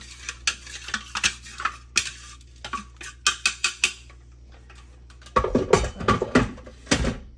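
Granola mixture being stirred in a bowl with a Danish dough hook: repeated scraping, clinking strokes in uneven bursts, quieter at first and then a louder, denser stretch of mixing near the end, with no talking.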